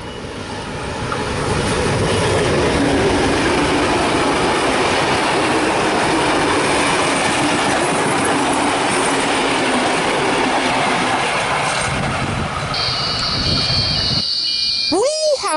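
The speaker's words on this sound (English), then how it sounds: "We have 4201 and 4490 with the Southern Highlander passing platform number 2." Locomotives 4201 and 4490 haul the Southern Highlander train past platform 2 at Tahmoor, a loud, steady roar of rolling wagons and rail noise lasting throughout, ending with high wheel squeals as it clears.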